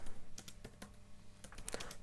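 Keys on a computer keyboard are tapped in quick irregular bursts, faint and close, with short pauses between clusters of clicks and no voices.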